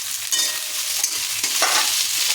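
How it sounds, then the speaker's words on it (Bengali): Onions sizzle in hot oil for a mutton curry while a utensil stirs them, producing a dense, steady crackle broken by a few scraping strokes, close and with no talk. "এবার তেলের ওপর পেঁয়াজ দিয়ে দেবো"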